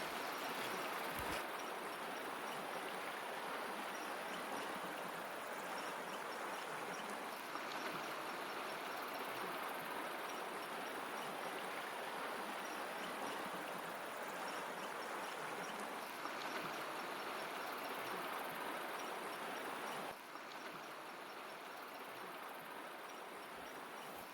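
A mountain tributary flows beside a horse camp in Idaho, a steady, soft rushing of water that continues unbroken and fairly faint throughout.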